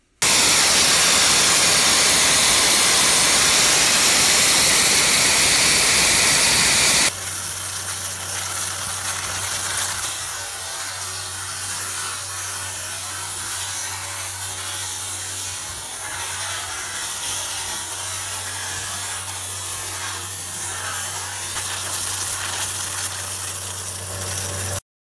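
An AquaTill high-pressure water jet nozzle running at 3,450 bar (50,000 psi) injects lime slurry into soil. A loud, steady broadband hiss lasts about seven seconds, then gives way to a quieter, constant engine-like hum with rattling texture.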